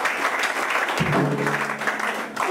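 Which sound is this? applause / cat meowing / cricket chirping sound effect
applause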